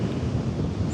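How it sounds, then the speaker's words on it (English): Strong wind buffets the microphone outdoors at Tadoussac during a birding outing, a steady loud low rumble with a hiss that fills the whole second without letup. "Like today's very windy."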